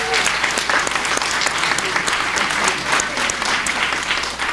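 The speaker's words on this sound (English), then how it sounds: "So give them a great applause" Applause from a church congregation at Mass greeting a newly married couple, a steady dense clapping that fills the space for several seconds.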